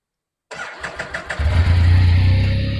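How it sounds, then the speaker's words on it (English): A Can-Am Spyder three-wheel motorcycle starts up close by: a few rhythmic cranking pulses, then the engine catches and settles into a loud, steady idle. "I do have the bike on, so we'll turn it on completely."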